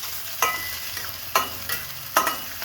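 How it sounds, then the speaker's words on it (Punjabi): Browned onions being stirred in a pan with garlic and ginger frying, while a utensil scrapes in three sharp strokes over a steady sizzle. No voices. "ਹੁਣ ਇਹਦੇ ਵਿੱਚ ਲਸਣ ਤੇ ਅਦਰਕ ਆਪਾਂ ਐਡ ਕਰਨ ਲੱਗੇ ਆ ਇਹ ਦੋਨੇ ਨੂੰ ਮਿਕਸ ਕਰਾਂਗੇ ਵਿੱਚ"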